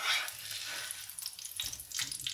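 A stuffed chicken paratha sizzles in a hot pan while it is flipped, a steady broadband frying hiss with brief soft bumps and scrapes near the end, close and moderately loud.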